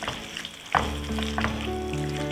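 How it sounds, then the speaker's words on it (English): Salmon and tomatoes sizzle in a pan and get a quick stir, with a loud clatter near the start followed by a steady, close frying hiss and no talking. "So I'll just give it a quick stir, just to combine all of these flavors."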